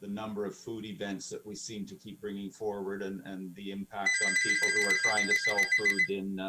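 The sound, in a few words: telephone ringing during council meeting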